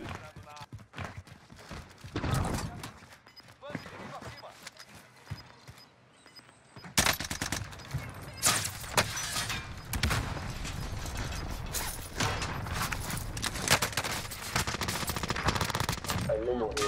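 Bursts of OTS 9 submachine gun fire in Call of Duty: Warzone, dense rapid firing that grows louder and more sustained in the second half, mixed with game effects and someone talking over it.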